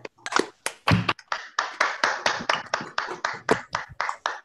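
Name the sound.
online seminar attendees clapping with unmuted microphones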